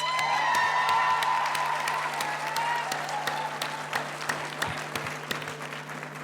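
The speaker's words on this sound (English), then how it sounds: "Can you please give your support system a round of applause?" A large graduation-ceremony audience applauds the graduates' families and supporters, sustained loud clapping with a few scattered cheers that gradually thins out over several seconds, no talk on top.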